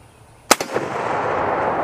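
A single sharp M1 Garand rifle shot, a loud close crack followed by a couple of quick echoes and a lingering rumbling decay, with no talking.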